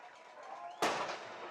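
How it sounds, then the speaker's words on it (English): A cannon booms at a high school football game right after a Red Devils touchdown, one sudden loud blast over steady crowd and announcer noise, its echo lingering into the background. "We have a cannon again, folks."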